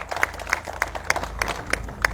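A rally crowd claps in a steady rhythm of sharp, evenly spaced beats, roughly three per second, over a low background murmur.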